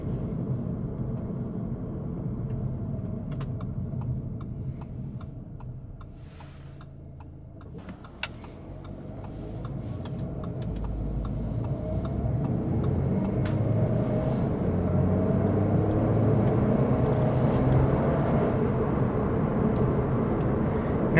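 Inside a 2022 Audi A3 40 TFSI quattro with a 2.0 turbo engine while accelerating, a steady low engine drone and road rumble that dips briefly, then rises and holds, with occasional faint ticks and no speech.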